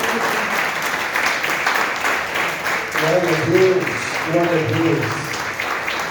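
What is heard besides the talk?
congregation applauding in church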